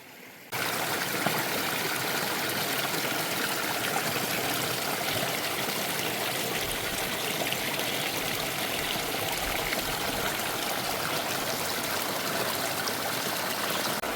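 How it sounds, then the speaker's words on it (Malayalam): A forest waterfall and stream near a tribal hamlet in Attappadi pour with a dense, steady rushing roar. The sound is close and constant, with no voices. "ഇവിടുത്തെ വെള്ളച്ചാട്ടം എടുക്കാൻ വേണ്ടി വന്നതാ"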